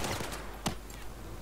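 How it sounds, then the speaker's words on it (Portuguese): Battlefield 4 gunfire with a burst of crackling shots near the start and one sharp report midway, set against a busy, noisy game backdrop. "Como é que eu estou a levar tiros?"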